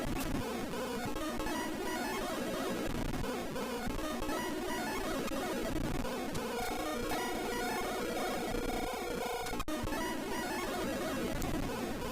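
Chaotic chiptune music and rapid battle sound effects from Pokemon Kaizo Blue played on fast forward, a dense, continuous jumble of beeps and tones at steady volume with no talking.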